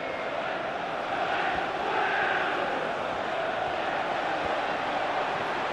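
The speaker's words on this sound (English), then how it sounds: "And the crowd really enjoying it." A stadium crowd in a FIFA 15 Premier League match between Swansea and Tottenham roars and cheers steadily, a dense continuous wash of noise that swells slightly around the middle.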